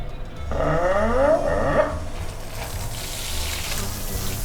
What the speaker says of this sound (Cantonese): 試咗呢個花灑先